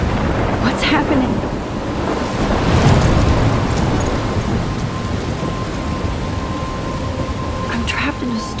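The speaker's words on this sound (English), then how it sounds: "I'm trapped in a storm?" A loud thunderstorm in the video game Life Is Strange, with heavy steady rain and a rolling rumble of thunder swelling near the middle, continuous and close throughout.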